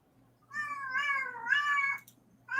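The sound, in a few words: loud cat meowing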